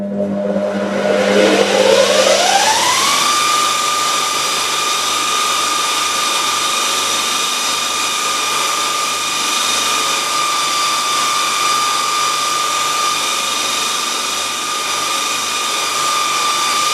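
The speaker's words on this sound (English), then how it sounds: "I'm holding it into the wheel just gently, and I can feel it sort of heating the kydex up and it's smearing it" Kydex sheet edge pressed gently into a spinning buffing wheel, heating and smearing the plastic: a steady loud motor whine that rises in pitch over the first few seconds, then holds a constant high tonal hum with no talk.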